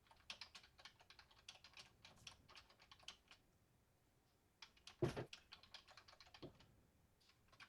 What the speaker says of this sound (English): I heard typing, so I was wondering if you were typing something